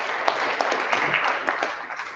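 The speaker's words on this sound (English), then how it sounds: "Let's give a bit of an applause to all the companies that have presented so far." An audience at a startup pitching competition applauds the presenting companies, a brief dense wash of clapping from a mid-sized crowd with a few sharper claps standing out.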